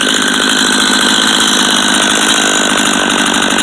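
A Stihl MS210 chainsaw recovered as a barn find runs at a steady, loud, close drone with no pauses or talk throughout.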